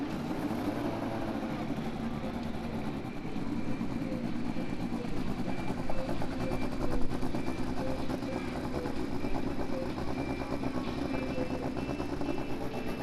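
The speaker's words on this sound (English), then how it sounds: "Drivers, start your engines." Indy Lights race cars idling together on the grid at Barber Motorsports Park after the start-engines command, a steady, dense mechanical rumble and buzz of several engines, moderately close and continuous throughout.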